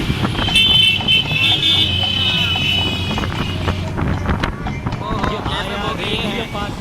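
A 70cc motorbike rides along a Karachi road, with a steady engine drone and traffic noise under strong wind buffeting against the microphone, plus a high whine at the start and passing horn-like tones.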